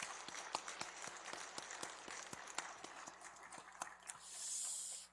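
Faint, sparse clapping comes from a church congregation honouring the choir, its conductor and accompanist, with hands striking in a loose, uneven rhythm and a brief hiss near the end.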